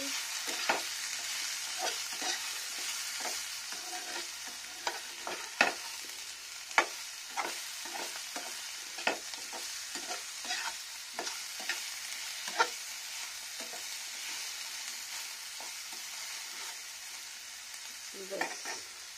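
Spices with turmeric and garlic fry in a pan for a Bengali fish curry, a soft steady sizzle carrying scattered scraping clicks of a spoon stirring, close and fairly quiet, with no voices.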